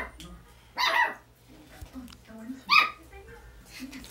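Puppies barking outside, two sharp yapping bursts a couple of seconds apart, fairly close, with someone talking quietly in between.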